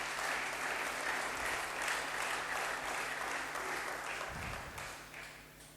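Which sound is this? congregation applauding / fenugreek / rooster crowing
congregation applauding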